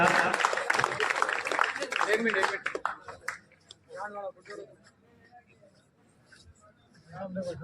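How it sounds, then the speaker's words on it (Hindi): Scattered clapping from an audience at a student award ceremony of the Sujla Swami community in Sujangarh, fairly loud at first and then thinning into sparse, uneven claps. "इसको तालियों से अभिनंदन करें आप"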